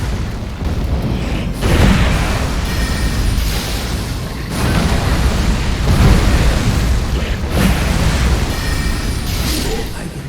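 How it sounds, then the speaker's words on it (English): Booming explosions from boss attacks in the Elden Ring video game, several heavy blasts in sequence with rumbling low tails and game noise between them, loud and close. "Some of his moves has different variations with explosions"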